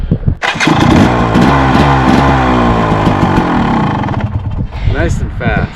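A 2014 KTM 300 motorcycle with a bad starter fires almost instantly after a brief crank, then revs loudly with a raspy two-stroke burble before settling, heard up close.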